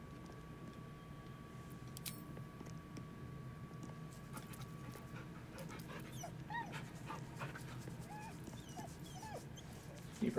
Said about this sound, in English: dog is unable to speak through the small bag he holds in his mouth